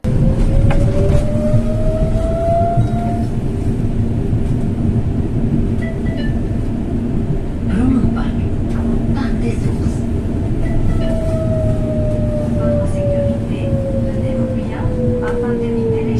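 Rumbling ride aboard a tram in snowy Belgium, a loud continuous low roar with rising and falling motor whine, carrying on steadily throughout.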